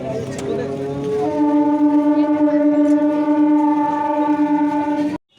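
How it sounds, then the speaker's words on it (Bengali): A passenger train pulls out of Bishnupriya railway station, a loud sustained horn blast holding steady for about four seconds over rumbling platform noise, then cutting off abruptly. "আমরা ট্রেন থেকে নামলাম এখন আর ট্রেন আমাদেরকে ছেড়ে চলে যাচ্ছে"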